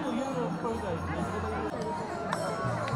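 A dense crowd of pilgrims at the Ashadhi Wari in Pandharpur fills the background with a low, continuous hubbub of distant chatter, while someone speaks close by over the murmur.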